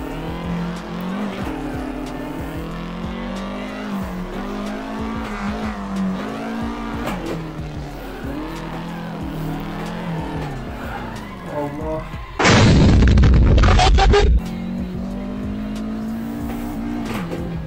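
Doğan SL car driven along a winding two-lane Mulholland road in Assetto Corsa, engine droning steadily with shifting pitch throughout, broken by a loud burst of tire squeal and roar near the end before the steady hum returns.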